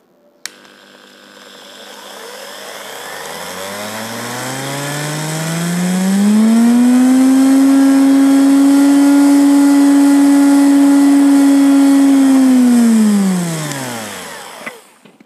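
A DC motor with a rewound armature spins up to about 10,000 rpm, its steady, loud electric whine rising in pitch, holding high and even for several seconds, then falling away as it slows down.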